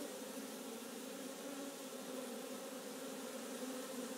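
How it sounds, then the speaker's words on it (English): A swarm of honeybees funnelling into a hive, producing a dense, continuous buzzing hum that stays steady and fairly close throughout, with no talking. "the bees are very busily getting themselves sort of lined up and into the hive"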